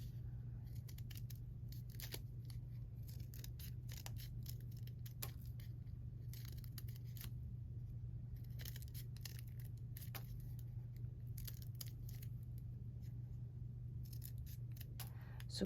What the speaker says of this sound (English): So you have to hold this together and you're going to cut your zigzag lines.